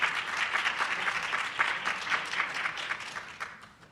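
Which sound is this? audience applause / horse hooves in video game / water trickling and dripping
audience applause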